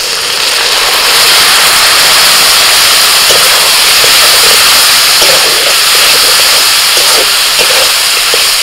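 A paste of ground coriander, cumin and turmeric mixed with water hits a hot oiled pan for a vegetarian banana-stem dish, giving a loud, continuous, close hiss and sizzle that barely changes from start to finish. No one talks.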